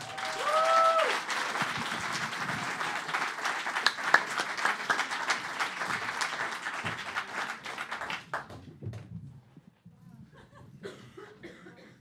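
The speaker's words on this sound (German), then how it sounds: "Applaus für Claudia Pichler, bitte." Audience applause for comedian Claudia Pichler at a comedy competition: dense, sustained clapping from a crowd with a few coughs, fading out after about eight seconds into quieter room noise.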